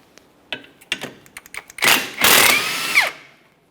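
A 14mm socket works on the rear sway bar link hardware of a 2015-2019 Subaru Outback, with scattered metallic clicks and taps followed by a louder burst of rapid ratcheting or impact-tool whirring.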